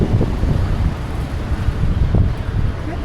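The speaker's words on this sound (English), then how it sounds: "Windy a little bit." Strong wind buffeting a microphone outdoors on a street in Pattaya, a loud continuous low rumble with gusty surges and no clear voices.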